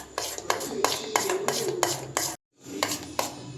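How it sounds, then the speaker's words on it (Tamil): Sunflower oil being stirred into homemade cake batter in a bowl, a spoon knocking and scraping the bowl in a steady rhythm of clinks, broken by a brief pause, with faint talk beneath. "இதையும் போட்டு நல்லா அந்த மாதிரி மிக்ஸ் பண்ணிக்கலாம்."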